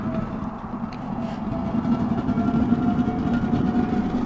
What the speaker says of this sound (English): You can actually hear the flames die down when you close this damper